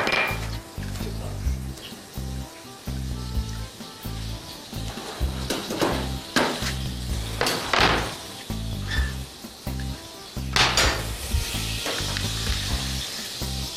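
Butter sizzling and frying in a pot, a steady close crackle with occasional metallic clinks of a utensil against the pot.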